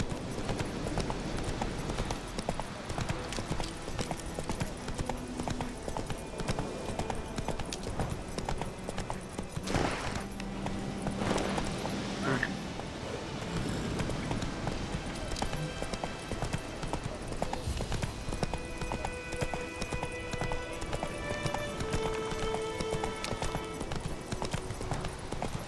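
A horse gallops at a steady clip-clop rhythm in The Witcher 3 video game, with the hoofbeats continuous and fairly quiet under ambient game sounds.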